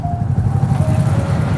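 A Royal Enfield motorcycle engine thumps steadily in hot city traffic, a close, continuous low rumble with a faint higher tone riding over it.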